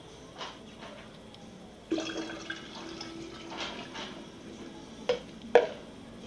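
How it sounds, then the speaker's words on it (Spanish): Water pours into a container of horchata mix with a steady filling gurgle, punctuated by a few clinks of the vessel, fairly quiet and close. "Y le ponemos el resto del agua."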